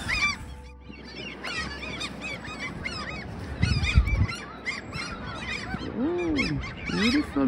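A two-year-old swan in Norway, chasing younger swans, calls with repeated loud, nasal honks close by, with other birds honking alongside.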